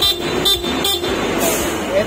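A loud aftermarket horn on a Honda ADV 160 scooter gives several short blasts in quick succession, close and loud, with someone speaking around them.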